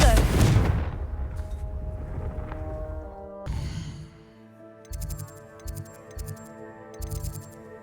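A Confringo blasting curse fires in a Harry Potter game: a loud explosive burst at the start, ringing magical tones and sparkling chimes after it, then a few softer thumping pulses.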